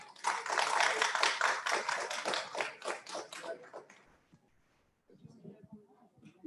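An audience at an evening panel event on the war in Ukraine claps warmly, a dense burst of applause for about four seconds that fades out, followed by a voice starting to speak.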